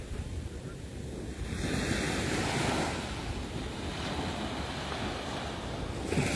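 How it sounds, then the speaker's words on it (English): Ocean waves wash onto a beach in Barbados, a continuous broad roar of surf mixed with wind buffeting the microphone, with no clear individual breaks. "What a beautiful beach."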